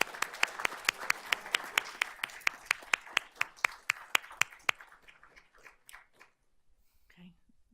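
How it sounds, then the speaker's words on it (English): An audience at a school board of trustees meeting claps for an honoree, a steady run of sharp hand claps that thins out and fades to near silence after about five seconds. "let's give Cody a round of applause"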